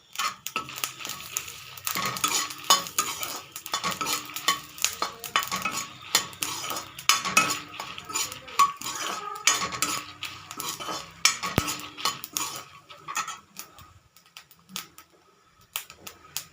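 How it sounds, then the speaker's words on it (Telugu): Cumin and coriander seeds dry-roasting in a pan for an ajwain-leaf chutney, stirred with a metal spoon: a busy, irregular clatter of scraping and tapping over a faint crackle, close and continuous, with no voices. "దానిలోనే జీలకర్ర, ధనియాలు వేయించేసుకోవాలి."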